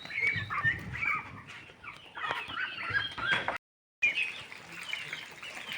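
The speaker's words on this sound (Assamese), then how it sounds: "এয়া মোৰ হাঁহ পোৱালি" Ducklings peep and chirp busily while eating grain scattered for them at a home flock. The calls are close and steady, with a brief silent gap partway through.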